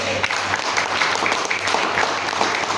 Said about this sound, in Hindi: मैं जबरदस्त तालियां चाहूंगा